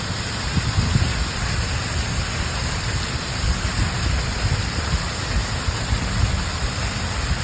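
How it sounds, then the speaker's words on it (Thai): Waterfall beside a hillside cafe surrounded by mountains, a steady broad rushing wash of falling water, continuous and fairly close, with no voices. "อันนี้ก็คือเป็นโซนน้ำตกนะคะ"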